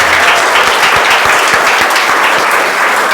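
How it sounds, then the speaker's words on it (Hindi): A group of students at a school prize distribution claps for a classmate named Rahul, giving loud, close applause with distinct individual claps standing out over a steady crackle of hands. "चाहे राहुल के लिए एक बार ताली बजाएगा।"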